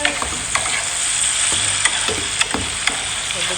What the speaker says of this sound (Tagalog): tumatalsik habang nagigisa tayo ng sibuyas, kamatis, bawang